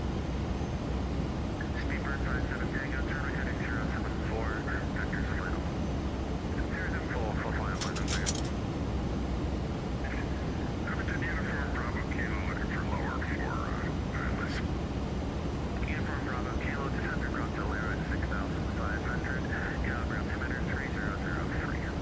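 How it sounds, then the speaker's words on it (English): A WestJet Boeing 737NG on approach to runway 16 at Yellowknife in X-Plane 12 produces a steady, loud engine and airflow roar throughout. A voice and radio-style talk come and go over it. "221 is on the approach now for runway 16 at Yellowknife. Clear to land runway 16"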